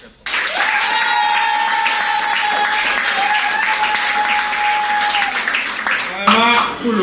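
Guests at a civil wedding ceremony in Douala applaud loudly, with a sustained burst of clapping. A voice over a microphone speaks over it, and it is joined by a held musical tone before fading near the end.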